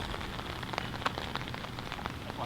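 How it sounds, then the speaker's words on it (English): Rain falling on a golf course during a state championship round, a steady soft patter of drops with a few sharper taps, faint and even throughout with no voices. "you can see the rain starting to pick up"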